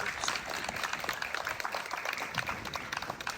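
An anniversary-celebration audience claps for staff members in a steady, dense wash of applause that holds evenly throughout, with a faint murmur of voices underneath.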